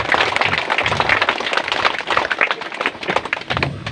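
Crowd applause at a traditional welcoming ritual for a bishop in Larantuka, a sustained, moderately loud patter of many hands clapping with uneven bursts throughout.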